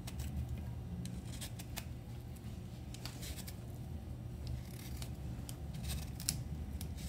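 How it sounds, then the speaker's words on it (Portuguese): A knife peels the skin off a beetroot with short, close scraping cuts that repeat irregularly over a steady low background hum; no one speaks. "Vou descascar a beterraba"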